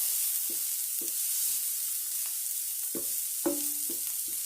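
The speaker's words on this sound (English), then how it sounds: "So the zucchini is cooking along with the onions" Sliced zucchini and onions sizzle in a hot pan with a steady, bright hiss, punctuated by soft thuds and scrapes of a utensil stirring them.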